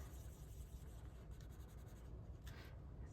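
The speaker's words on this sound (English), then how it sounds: "Let me go ahead and color this in." A pen colours in a savings booklet with a quiet, continuous scratchy rubbing of short back-and-forth strokes, close up and alone.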